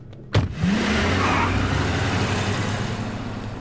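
A car engine revs hard, then the car pulls away and drives off with a rising, sustained roar close by, in a tense street scene from a Hindi-dubbed action film.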